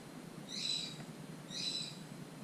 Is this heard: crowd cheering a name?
no